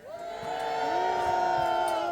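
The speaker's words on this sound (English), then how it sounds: "Who cheers for Lord Somerset?" A crowd roars and whoops for a fighter at a medieval pageant battle, loud sustained shouting that builds quickly and holds.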